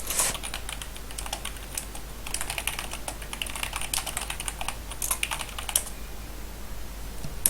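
Steady typing on a computer keyboard, with rapid, continuous clicking keystrokes in irregular bursts through most of the stretch before it slows near the end; close and moderately loud, with no talking.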